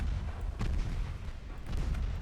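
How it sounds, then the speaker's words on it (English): Torpedo hits land on an enemy warship in the naval battle game Ultimate Admiral Dreadnoughts, giving muffled, booming impacts with a sharper burst near the start and another later, under constant rumbling battle noise. "Another torpedo hit on the enemy."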